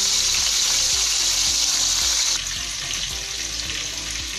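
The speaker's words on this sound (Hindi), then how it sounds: "अब दूसरी साइड से कंप्लीट कुक कर लेंगे इसको।" Beef chapli kebabs frying in a pan of oil, a loud, continuous bright sizzle with faint crackling throughout, easing slightly halfway through.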